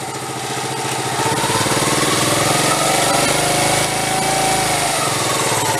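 Restored Honda Z50 motorcycle engine revved up, a loud, buzzy small single-cylinder roar that climbs and holds high for several seconds before easing slightly, close and alone.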